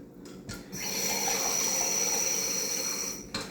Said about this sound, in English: Then next, I'm gonna go ahead and add the water.